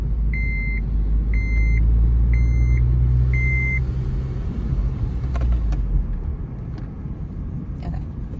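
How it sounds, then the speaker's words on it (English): A manual stick-shift car accelerates in third gear with a steady, loud low engine rumble throughout, while four short electronic beeps repeat evenly over the first few seconds. "Push the clutch, push your gear up from the middle into three, and push the gas."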